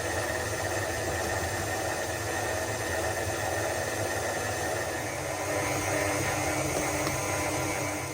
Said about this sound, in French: je vais tourner mon robot sur vitesse rapide pour obtenir une belle boule de pâte qui se maintient